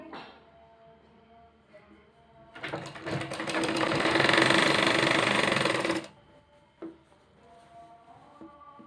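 A sewing machine runs in one sustained burst of about three seconds, stitching elastic into a salwar waistband with a steady mechanical whir, framed by quiet handling clicks before and after.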